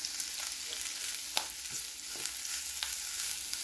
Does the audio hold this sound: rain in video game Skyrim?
no